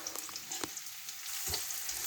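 Onions frying in a pan for a cheese sprouts egg fry, with a soft steady sizzle and a couple of brief stirring scrapes, heard up close and fairly quiet.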